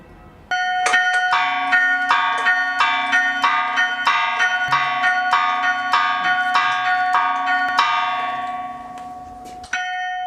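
Church bells of San Luis ring out in a quick, bright run of repeated strikes over a sustained hum, clear and close, before the peal fades and a final stroke sounds.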